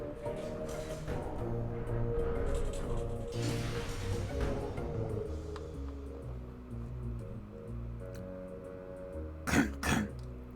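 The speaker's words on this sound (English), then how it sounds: "Oh, it was a cough." A cough bursts out near the end during a quiet stretch of Night in the Woods gameplay, with soft game music underneath; two short, loud, close barks.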